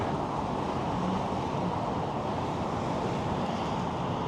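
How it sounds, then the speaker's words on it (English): Steady cold wind buffeting the microphone during an e-bike ride in Albuquerque, a constant low rumble and broadband roar with no talking. "It's the wind, really."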